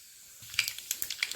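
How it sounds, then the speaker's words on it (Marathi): Cumin, mustard seeds and a little fenugreek crackling in hot oil: a faint hiss breaks into a quick run of sharp, close pops and spits, several in succession over a short span. "फोडणी तडतडलेली आहे"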